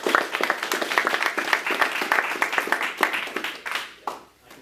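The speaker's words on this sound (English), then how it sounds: "Just give a warm round of applause to Sean." An audience at a Startup Grind event in Sydney breaks into a steady burst of clapping to welcome a speaker, the applause dense and close before tapering off near the end.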